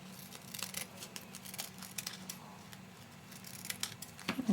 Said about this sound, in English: you're just going to barely cut these. Just kind of trim off the edges.